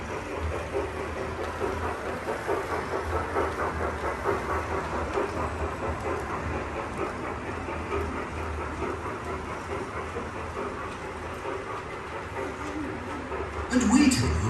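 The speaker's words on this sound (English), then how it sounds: "This train is just 32 times smaller than the standard size." A miniature model train, built at one thirty-second of standard size, runs on tracks in a miniature railway museum in Pune, giving a steady rolling rumble with faint rhythmic clatter and a brief louder swell near the end.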